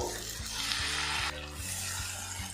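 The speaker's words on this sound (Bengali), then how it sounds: "মশলার আলুটা একটু কষিয়ে নেব।" Potatoes fried with spices for a ridge gourd curry, stirred in a pan with a little water added, giving a soft sizzle and a few gentle spoon scrapes at close range.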